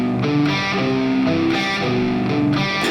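Distorted electric guitar playing a riff, a short run of picked notes played close and clear with no talk.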